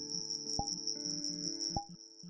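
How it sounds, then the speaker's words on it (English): Crickets in a video game chirp in a constant shrill, steady trill, with soft repeated clicking and low game sounds pulsing beneath; no talking. "Those freaking crickets."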